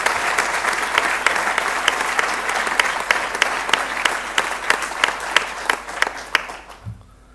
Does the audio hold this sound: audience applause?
yes